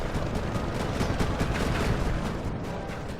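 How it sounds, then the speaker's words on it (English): Loud, continuous gunfire in the PS5 video game Sly 3: Honor Among Thieves, a dense rapid rattle of shots filling the whole stretch without pause, with no talk over it. "Good lord, talk about loud-ass gunfire."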